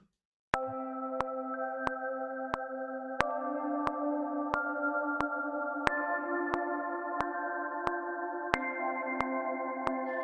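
A steady electronic tone with sharp rhythmic clicks repeating about every half second, washed in a long, spacious reverb tail from a stock space reverb patch.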